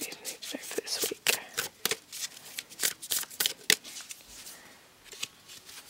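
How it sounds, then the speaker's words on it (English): Deck of tarot-style reading cards being shuffled by hand, a run of crisp riffling and slapping bursts that come close and loud before tapering off near the end, with soft speech in places. "I just want to shuffle these cards a bit more."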